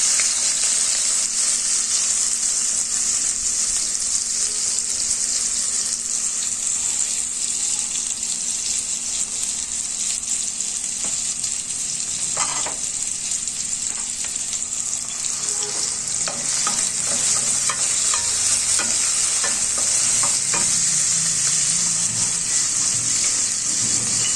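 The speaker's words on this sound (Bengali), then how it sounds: "পেঁয়াজ দিয়ে দিচ্ছি" Onions frying in hot oil in a frying pan give a steady, loud, close sizzle that runs unbroken throughout, with occasional scraping and stirring clatter and no talking.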